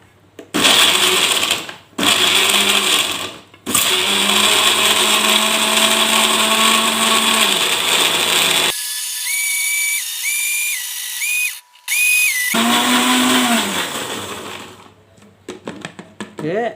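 Kitchen blender grinding spice paste with a little added water for tofu and tempeh sayur lodeh, running loud in several bursts with brief pauses and a high whine, alone without talk.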